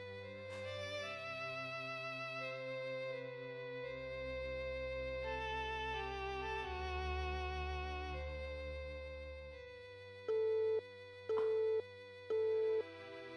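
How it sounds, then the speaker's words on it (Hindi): Background music plays, then three evenly spaced telephone busy-signal beeps sound clearly near the end. "ये फोन भी नहीं लग रहा है अब।"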